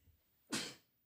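A single sharp sneeze bursts out after a moment of near quiet, then trails off quickly.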